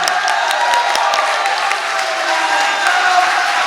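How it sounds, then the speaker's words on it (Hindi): Sustained applause from a mushaira poetry gathering audience, dense clapping at an even level throughout with faint cheering mixed in. "दोनों हाथों से जोरदार तालियां बजा करके आप साहिल इलाहाबादी का इस्तकबाल करें"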